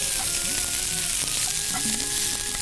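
Onion sautéing in a pan until reddish, before green peas go in, gives a dense, continuous sizzling hiss with faint stirring scrapes, fairly loud and close, with no talking.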